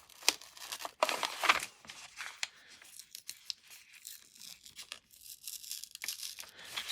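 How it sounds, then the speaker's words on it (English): Paper label being slowly peeled off an item, with quiet intermittent tearing and crinkling rasps in short bursts, close and faint, with no voices. "I'm gonna peel it off without wrecking it"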